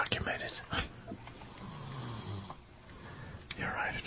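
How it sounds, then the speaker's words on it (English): A man snores over a radio broadcast, rough wheezing breaths repeating at a slow, uneven pace, faint and muffled with a few sharp snorts. "the snoring's getting better"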